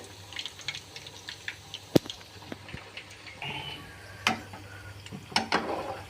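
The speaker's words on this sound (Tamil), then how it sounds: "தண்ணி அதிகம் பண்ணாலும் எண்ணெய் லைட்டாக கொத்துட்ருக்கிற மாதிரி இருக்குது." Toor dal vadas frying in oil, the soft bubbling punctuated by occasional sharp pops and crackles, quiet and close with no voices.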